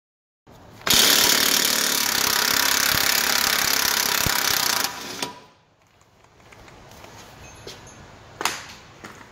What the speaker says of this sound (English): I use my impact gun to get this off.